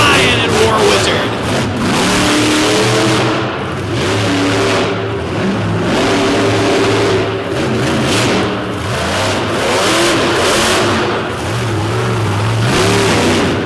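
The War Wizard monster truck roars at a 2024 Madison motorsport destruction show, its big engine revving loud and rising in repeated surges, while an announcer talks over the noise.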